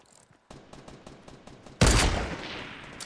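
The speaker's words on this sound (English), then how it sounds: "That was a terrible sniper shot." Quiet rapid gunfire ticks give way to a single loud, sharp sniper rifle crack in Fortnite, followed by a decaying tail of noise.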